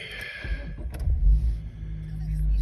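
A Dacia Duster's engine idles steadily as a low, continuous rumble after starting, with a brief mechanical clatter early on and someone talking over it.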